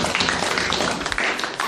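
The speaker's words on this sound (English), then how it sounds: "All right, everybody give them a round of applause" A classroom of students gives a round of applause for classmates, dense steady clapping from many hands filling the room at close range for the whole stretch.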